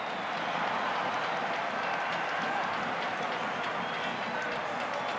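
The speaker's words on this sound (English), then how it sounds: "A roar from the crowd tells you exactly what happened there" A big stadium crowd at a French Top 14 rugby match, Stade Francais against Bayonne, roars after a successful kick at goal. The dense, loud roar holds steady for the whole stretch without breaking.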